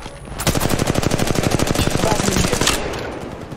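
Automatic weapon fire in Apex Legends Mobile, a rapid, loud burst of evenly spaced shots lasting about two and a half seconds before cutting off, close and sharp.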